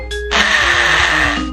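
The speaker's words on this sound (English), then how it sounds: "That's the sound of a drill." A steady, whirring motorized buzz from a VTech toy drill starts after a brief click and runs continuously for over a second, loud and close.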